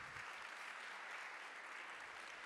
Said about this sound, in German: Applaus für dich